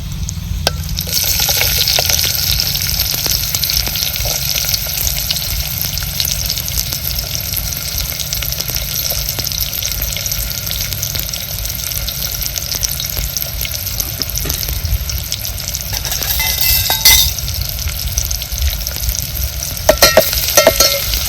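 Onion sizzles and fries steadily in hot oil with curry leaves in a kadhai, stirred now and then, a close continuous crackle with occasional scrapes, for Maharashtrian-style black ghevda masale bhaat.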